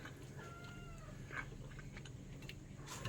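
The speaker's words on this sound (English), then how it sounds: "I love my kittens" Kittens meowing faintly in a home kitchen, a few thin, high cries rising over a steady low hum, with no talking.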